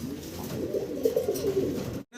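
A pair of blue satin fancy pigeons coos steadily and close by, soft low throaty calls rolling on for about two seconds before cutting off.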